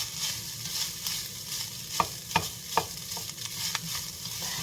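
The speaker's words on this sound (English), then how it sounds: "At this junction, I'm going to be adding my scrambled eggs into it" Chinese rice with scrambled eggs being stir-fried in a hot pan, a steady sizzle with a few sharp scraping clacks of the spatula against the pan, close and alone.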